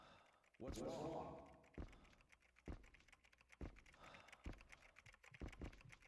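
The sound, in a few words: typing on keyboard in video game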